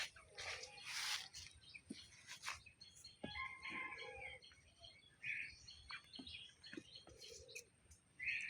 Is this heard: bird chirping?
yes